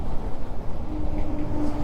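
A train passes on a railway beside a road during a motorcycle ride on a Yamaha MT-15, a loud, steady low rumble with broad noise that holds through the whole moment, with no voices.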